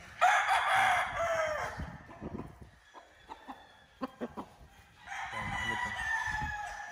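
Bulik roosters in a backyard range area crow in two loud bursts, one at the start and one near the end, with softer clucks and scattered chicken calls in between, close by.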